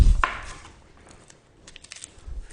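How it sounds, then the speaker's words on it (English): A knife chops onions with one sharp, loud cut at the start, followed by a scatter of softer, irregular taps. No one speaks. "the first thing, as always, is chop up the onions, and that's what I'm going to do now"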